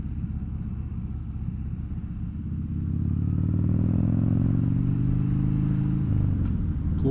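A Harley-Davidson Dyna Fat Bob (FXDF) engine rumbles deeply while riding, growing louder as it accelerates, steady and close with wind noise.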